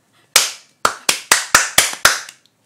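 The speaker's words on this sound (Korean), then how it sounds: "발로 박수 치는 것 같았어요, 방금" Seven loud, sharp hand claps close by, spaced a little under half a second apart in a slightly uneven rhythm, each ringing out briefly in a quiet room.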